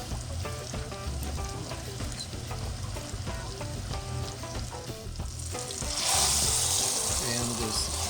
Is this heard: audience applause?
no